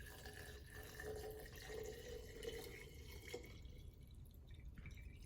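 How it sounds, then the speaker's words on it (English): Vodka pours in a faint, continuous trickle into a jar of vanilla beans, a soft liquid splash and drip that fades toward the end. "We're just going to pour it in"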